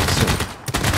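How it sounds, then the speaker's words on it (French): Dense, rapid machine gun fire from the Civilization VI strategy game, a continuous loud rattle with a brief dip before the bursts resume. "c'est quoi cette mitrailleuse qui passe outre mes défenses?"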